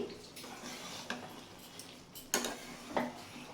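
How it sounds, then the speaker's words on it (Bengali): A lid comes off a pot of watermelon rind curry and a spoon stirs it, giving a few soft clinks and scrapes of metal against the pot, fairly close, with short quiet gaps between them. "ঢাকাটা খুলে দিয়ে আমি এটা আবার নেড়ে দিচ্ছি"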